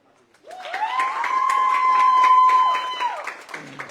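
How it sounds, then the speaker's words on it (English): A crowd at a national school chess tournament claps in a lively round of applause, with a long, loud sustained whistle ringing over the clapping before it fades out. "Give a round of applause."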